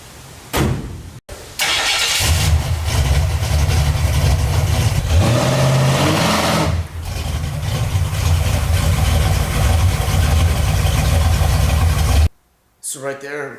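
A 1/8 scale electric Clodbuster RC monster truck driving in a shop, a loud, continuous motor whine and rumble that surges and dips, starting abruptly and cutting off near the end.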